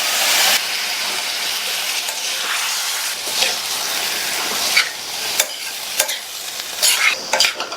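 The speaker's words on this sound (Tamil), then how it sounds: "முருங்கைக்காயை சேர்த்துட்டு நல்லா கலந்து விட்டாச்சு" Drumsticks stirred into masala frying in oil in a pan, a steady close sizzle with scraping stirring strokes and a few sharp clatters of the spoon toward the end.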